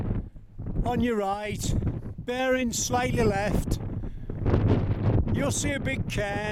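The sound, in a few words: strong wind on a hilltop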